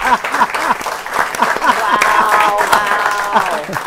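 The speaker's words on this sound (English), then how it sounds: "I see the sign says applause and cheers." A studio audience claps and cheers in a dense, continuous burst of applause, with voices mixed in amid the clapping.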